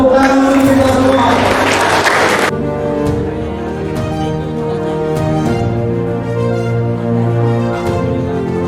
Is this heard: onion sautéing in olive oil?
no